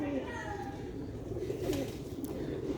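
Sialkoti pigeons coo softly in the background under someone talking throughout, giving a few low, rolling calls.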